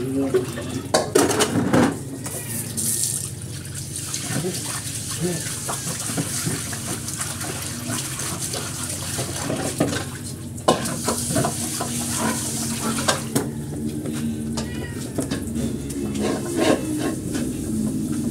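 Bananas frying in a pan, with clinks and scrapes of utensils against cookware and a steady sizzle running throughout, loud and close, a few louder knocks near the start.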